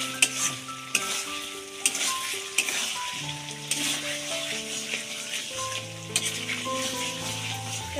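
Meat marinated in salt, turmeric, chilli, oil and lemon frying in a pan, a continuous sizzle with occasional spoon knocks and stirring scrapes, close and moderately loud; steady tonal hums run underneath, and no one speaks.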